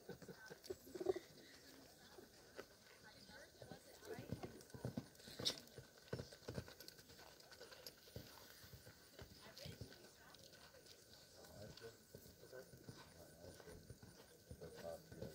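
Horse hooves clip-clop in an irregular rhythm on a hard surface, moderately close, with people speaking and birds faintly in the background.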